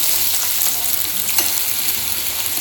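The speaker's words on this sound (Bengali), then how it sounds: "চলো লাল করে ভাজা হোক আলুটা" Potatoes fry in hot oil in a pan with a steady, close crackling sizzle and occasional stirring scrapes, continuous throughout with no talking.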